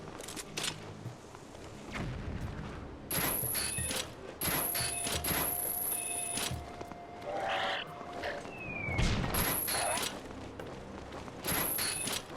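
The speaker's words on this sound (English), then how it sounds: "I didn't mean to drop a bomb" Bursts of broadband blasts and clattering booms from a bomb going off in Zelda: Skyward Sword, with several loud impacts spread across the stretch amid game effects and tones, no talking.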